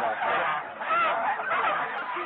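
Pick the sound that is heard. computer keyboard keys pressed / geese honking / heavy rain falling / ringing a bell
geese honking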